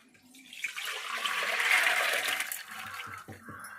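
Water pours in a rushing stream into a pressure cooker holding soaked cowpeas, swelling to a loud gush, then easing off after a few seconds.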